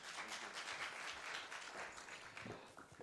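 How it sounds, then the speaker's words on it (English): Audience applause at the EU Nepal Business Forum, a steady wash of clapping from a crowd of business delegates, fairly faint and continuous for about three seconds with no talk over it. "can we have a round of applause for him, please?"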